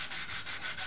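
Sandpaper rubbed back and forth over a brake part from a Mitsubishi Pajero, a steady rasping scrape in close, even strokes with no talking.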